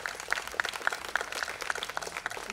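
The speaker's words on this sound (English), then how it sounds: "I just want all of us to just give them a huge applause." Applause from an audience at a trailer launch event for a streaming series, steady overlapping claps with sharp individual hits spread across a brief stretch at moderate distance.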